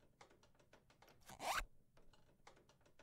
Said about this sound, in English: Was that my zipper?